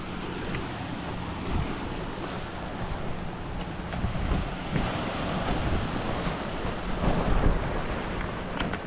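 Sea waves washing in over rocks along a rocky shore, a rolling churn of surf that swells and recedes under steady wind buffeting the microphone, with no voices.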